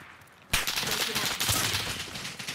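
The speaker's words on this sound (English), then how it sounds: "He's shooting through the wall." Video game gunfire punches through a wall: after a brief quiet moment, a sudden loud barrage of rapid shots bursts in and keeps rattling close by until the end.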